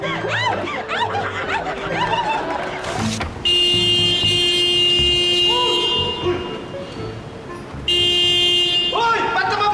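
A car horn blares in two long sustained blasts in a comedy sketch setting, loud and close, with laughter and talk heard before and between them.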